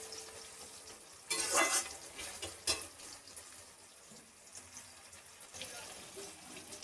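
Onions fry and sizzle in a pan for a home-style country chicken curry, with bursts of scraping as they are stirred and a louder stir early on, over a steady, quieter sizzle.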